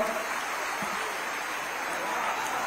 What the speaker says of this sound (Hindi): दीदी मन बढ़िया ताली बजावाओ।